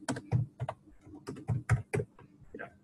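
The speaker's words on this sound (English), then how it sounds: "So I'm going to enter and make sure I type it right." Password being typed on a computer keyboard during a database install, about a dozen sharp, close key clicks in quick irregular bursts, with no talking.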